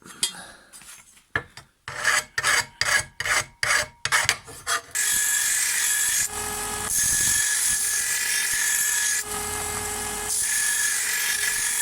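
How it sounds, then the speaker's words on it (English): Hand file rasping across a Hyundai HYM480SPR lawn mower blade, with a series of rhythmic scraping strokes at first, then a long continuous grinding drag, loud and close. "run my file across the top there, just to flatten off that point"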